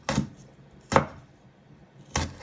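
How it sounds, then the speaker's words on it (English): Three separate knife chops through ginger on a cutting board, sharp and close, spaced about a second apart with quiet between them. "Want to chop it down the middle, and you first want to finely slice it"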